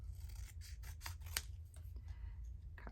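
Scissors snipping journal paper pieces, several quick crisp cuts with rubbing paper handling in between, close and fairly quiet over a low steady hum.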